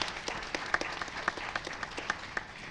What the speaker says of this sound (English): Give him a big round of applause for helping us out.